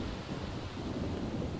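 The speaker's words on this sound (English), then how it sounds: "Oh, it's like super rainy and creepy now." Heavy rain with rolling thunder in The Sims 4, a dense low rumble mixed with a steady downpour hiss that stays loud and unbroken throughout, no voices over it.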